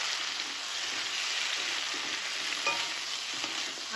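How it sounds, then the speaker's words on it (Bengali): Grated ginger frying in hot oil with pumpkin stalks and potato, a steady close sizzle lasting the whole stretch with faint scraping stirs and no voices. "আদাটাও তেলে একটু নাড়াচাড়া করে নিয়েছি"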